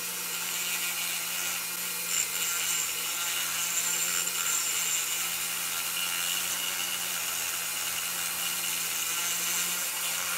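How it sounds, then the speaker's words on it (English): A Dremel fitted with a diamond burr grinds a Chevy Blazer fender in one continuous, loud, rasping whine that holds steady throughout, with no voices. "So I'm going to grab one of my diamond burrs and use a little bit of Dremel power."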